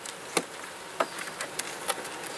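Honey bees in a queenless hive give a soft, steady buzz close by, with a few faint ticks and taps over it.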